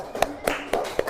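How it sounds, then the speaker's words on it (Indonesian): A classroom of students claps for group 1 in four sharp, evenly spaced beats, one roughly every quarter second, close and fairly quiet. "Tepuk tangan untuk kelompok 1."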